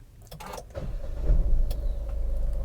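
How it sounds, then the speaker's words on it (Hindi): An MG Astor is switched on, with a few clicks and rustles followed by the engine catching and settling into a low, steady idle heard from inside the car. "सो बेसिकली मैं गाड़ी को ऑन करूँगा"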